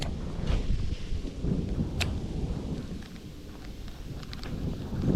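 Wind blows hard outdoors beside a canal while someone fishes for snakehead, a continuous low rumbling buffet across the microphone with a few faint knocks and no speech.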